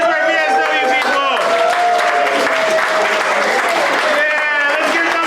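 A crowd at a community pancake breakfast for a shelter workshop applauds family members: loud, dense clapping and cheering run throughout the short stretch while someone speaks over it.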